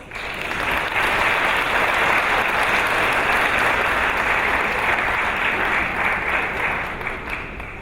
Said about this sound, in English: Let's give these ladies a round of applause.